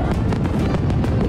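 Fireworks bursting at a parade and festival celebration, a dense run of loud crackling pops and bangs in quick irregular succession that fills the whole moment.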